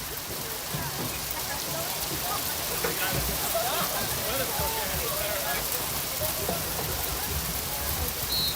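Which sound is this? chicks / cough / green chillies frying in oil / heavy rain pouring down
heavy rain pouring down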